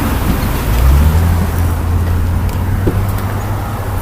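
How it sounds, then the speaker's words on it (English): A Chevrolet Tahoe rolls by with a steady, low engine and road rumble that stays fairly loud and even throughout. "Tahoe rolling."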